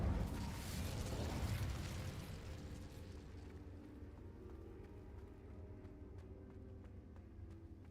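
An Incendio fire spell is cast in a Hogwarts video game: a loud, fiery burst rushes out at once and then fades slowly into a low rumble with faint scattered crackles, and no voices.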